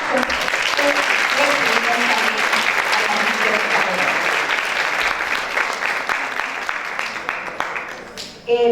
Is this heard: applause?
yes